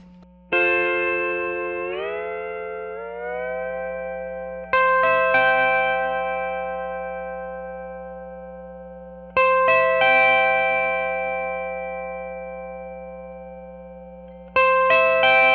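Clean pedal steel guitar notes, plain tone through a Radial BigShot I/O true-bypass instrument selector, ring out with long sustain, one bending smoothly upward, restruck every few seconds over a low steady hum.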